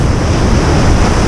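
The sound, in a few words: sea waves breaking on the shore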